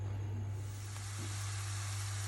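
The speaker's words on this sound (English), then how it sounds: "I'm just frying off the chopped onions in about 2 tablespoons of olive oil" A steady, soft sizzle of chopped onions frying in about two tablespoons of olive oil, with a low constant hum underneath and no talking.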